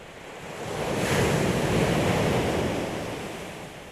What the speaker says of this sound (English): Waves are getting a little bit bigger